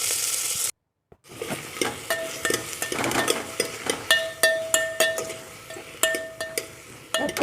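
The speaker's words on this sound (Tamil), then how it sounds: "கத்திரிக்காய் நல்லா எண்ணெயில் வதங்கி வரட்டும்" Eggplant sautés in oil in a pan for a Coimbatore-style field bean and brinjal curry, with a soft steady sizzle broken by frequent sharp clinks and scrapes of a spoon stirring against the metal pan, near and without talk.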